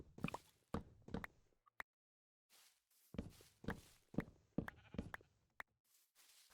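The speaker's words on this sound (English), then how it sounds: "we got that sheep out there, but that ain't no cow" Sheep bleat repeatedly in the Minecraft video game world, a series of short nasal bleats in uneven bursts with soft thudding steps and a pause in the middle, quiet and without talk.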